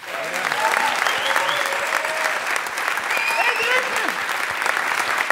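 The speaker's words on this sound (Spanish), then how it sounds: "Vamos a saludar inmediatamente con una ovación del todo inmerecida" A studio audience at a radio show gives an ovation, steady, full applause from many hands with a few scattered shouts and whistles riding on top throughout.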